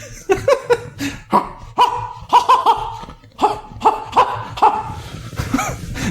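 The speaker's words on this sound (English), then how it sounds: "it was a dog barking." A dog barks in a rapid series of about a dozen sharp, close barks and yips, some with whimpering, across the whole clip.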